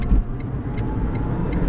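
Tesla Roadster electric sports car accelerating, a steady close road roar with tire and wind noise and faint repeating high chirps, no voices.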